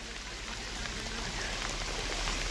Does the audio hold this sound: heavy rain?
yes